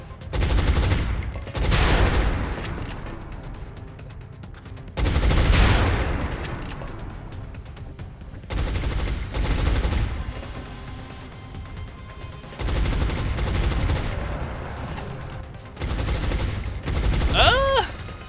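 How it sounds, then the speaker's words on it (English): Gunfire from the video game XCOM Long War, with about five separate bursts of loud close-range shots, each volley a few seconds long, and short quiet gaps between them. "Alright, let's start shooting."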